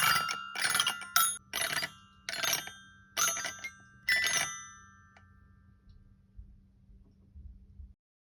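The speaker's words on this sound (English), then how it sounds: "So I'll record the doorbell" A recorded doorbell rings in a quiet home, sounding about seven bright metallic chimes in an irregular rhythm over roughly four seconds, with a faint low hum continuing after the ringing stops.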